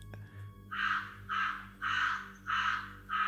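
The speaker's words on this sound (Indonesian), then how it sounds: "Kok banyak sekali gagak di atas rumahnya Non ya?" Crows cawing above a house in a story sound effect give five loud, harsh caws at a steady, even rhythm over a low background hum, with no voices.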